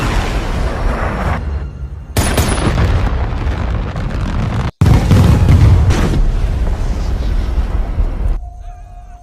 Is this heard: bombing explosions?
yes